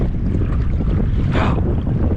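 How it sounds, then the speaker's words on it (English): Strong wind blows across open water during paddle-board fishing near a bridge, a loud, steady roar of buffeting gusts hitting the microphone with the wash of water, with no talking. "Starting to get really windy out."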